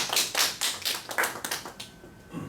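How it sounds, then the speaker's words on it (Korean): An audience claps in a brief burst during a Korean ultrasound lecture class, a run of sharp close slaps that thins out and fades by the end, with no talking. "박수."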